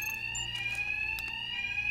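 An alarm rings in the Batman Arkham Knight video game, a continuous high electronic tone held steadily at moderate loudness with a low background hum and a few faint clicks.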